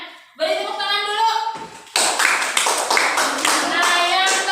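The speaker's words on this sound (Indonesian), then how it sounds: "Beri tepuk tangan dulu" Hands clap in a lesson-style session, starting about halfway through after a sustained tonal sound, as a brisk run of sharp claps mixed with a voice or tones carrying on over it.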